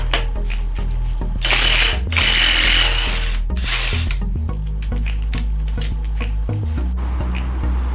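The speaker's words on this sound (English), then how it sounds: "now I'm going to remove the crank bolt." A power tool whirs and ratchets in bursts while removing the crank bolt from a Ford 351 Windsor engine from an F150 5.8 EFI, the buzzing runs heard close up over a steady low hum.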